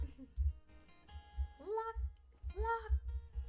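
A cat meows twice with rising, drawn-out cries, over a low rhythmic thumping background in a game setting.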